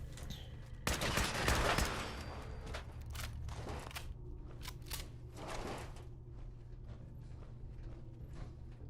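Gunfire in Fallout 4 from a weapon fired from the hip: a loud burst of shots near the start, followed by scattered single cracks and clanks spaced through a quieter stretch with a low background hum.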